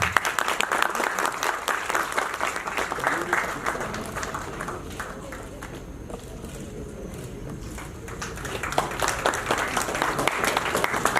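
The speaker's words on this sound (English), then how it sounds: "A big round of applause, please." Audience applause at a Google Developer Groups DevFest 2022 ceremony in Guwahati: a dense, steady round of clapping that fills the whole stretch, dipping slightly midway before swelling again.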